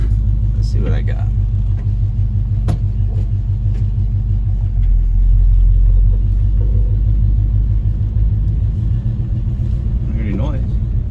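A carbureted car cruises with the window rolled down, its steady, deep engine rumble and road noise filling the cabin, with a brief voice or two over the drone.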